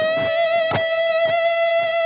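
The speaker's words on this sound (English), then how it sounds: "This is a sound I made for Ross when he's playing the gem, the Ibanez gem, and it sounds like this" Ibanez electric guitar with humbucker pickup played through a BOSS amp simulation preset gives a sustained, bright sustained tone with a few picked attacks, heard alone and close.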